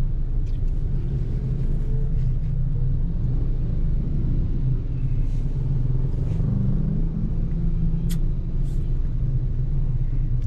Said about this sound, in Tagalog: Mas traffic ngayon